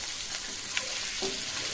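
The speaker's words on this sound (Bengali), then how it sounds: "কাঁকড়াগুলো এইভাবে আস্তে আস্তে করে ভেজে নেব একটু লাল লাল করে কাঁকড়াগুলো ভেজে নেব" Small crabs fry in oil in a pan with a steady, close sizzle and a couple of soft stirring clicks.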